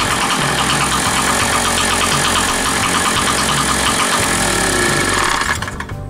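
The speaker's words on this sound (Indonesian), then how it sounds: "ketika akan kita tes hidupkan lagi, mesin akan langsung menyala" A car engine runs loud and steady after its spark plug has been checked and swapped, a dense continuous rumble with a rough, mechanical chatter that cuts off sharply near the end.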